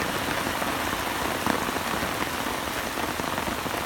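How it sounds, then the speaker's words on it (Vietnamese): Heavy rain falls at an abandoned pond during a fishing trip, a dense, continuous patter of drops close by, loud and unbroken, with no voices. "Mưa nó rơi vào."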